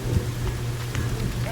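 Steady rain pours in the survival video game The Forest, a dense hiss of falling drops with low rumble underneath, continuous and close throughout.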